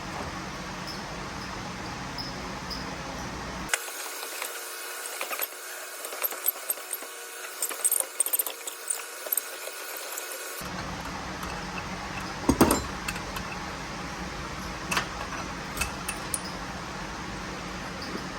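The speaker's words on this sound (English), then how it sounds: "Grab our wrench. I'm going to throw just a little twist in it." A wrench snugs a fitting on a 5.3 LS fuel rail supply in a Ford F100 engine bay, giving scattered faint metallic clicks and ticks with one sharper tap, over a steady background hiss.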